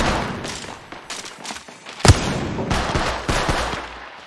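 Gunfire in the battle royale game Apex Legends Mobile, with bursts of rapid automatic shots and sharp single cracks, including one loud close report midway, plus scattered distant fire.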